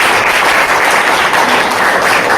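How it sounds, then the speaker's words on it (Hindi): A crowd at a company anniversary event breaks into loud, dense applause, a steady wash of clapping filling the short moment without speech. "एक बार जोरदार तालियां होनी चाहिए।"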